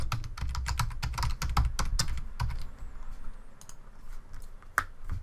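Rapid, close keystrokes on a computer keyboard while sign-up details are entered, a dense run of clicks that thins to a few scattered taps over a steady low background hum.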